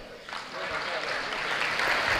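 Steady applause from a crowd, building slightly louder toward the end, a dense wash of clapping with no pauses.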